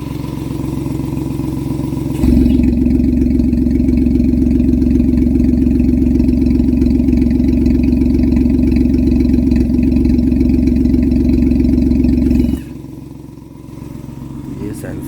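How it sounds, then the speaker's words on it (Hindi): A modified Maruti 800 idles with a valvetronic exhaust, giving a loud, steady, deep burbling drone that holds for about ten seconds, then drops to a quieter idle. "बाकी आप वैसे ही आइडल में सुनिए ज़रा इसकी आवाज़, कैसी आती है"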